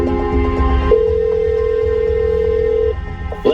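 A telephone line rings out while a caller waits to reconnect, a loud steady tone holding for about two seconds after a few shorter beeps, then cutting off, with no voices.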